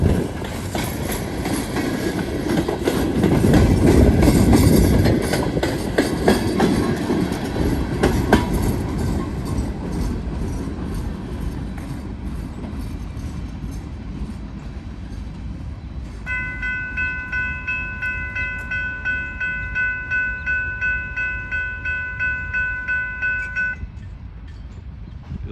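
A fast freight train with two lead locomotives and two distributed power units rolls past a railroad crossing on new rail, loud rumbling and wheel clatter, with a sustained multi-tone horn sounding in the latter half.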